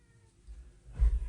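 Rogue, a pet cat, gives a short, low, muffled meow close to the microphone that swells toward the end, over a quiet background.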